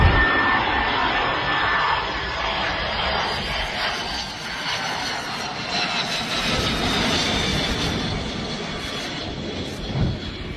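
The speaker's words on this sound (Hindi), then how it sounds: "अमेरिका के बहुत सारे F-35 फाइटर जेट पुर्तगाल से पर्शियन इलाके की तरफ उड़ान भर चुके हैं" US F-35 fighter jets fly over with a loud, continuous roaring jet rush that holds steady for about ten seconds, broad and close with no talking.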